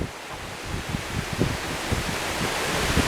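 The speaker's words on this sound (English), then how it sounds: "can you see the rain coming out of the gutter down there?" Rainwater pours steadily out of a house gutter during a heavy downpour outdoors, a broad continuous wash of splashing noise with uneven thumps, close by and fairly loud, with no talking.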